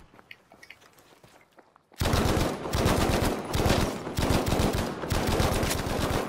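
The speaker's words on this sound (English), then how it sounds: "I've got one running towards me. I'm going to shoot him." Gunfire in the video game Battlefield V, quiet background movement then a sudden loud, sustained stream of rapid automatic shots in repeated bursts lasting over four seconds.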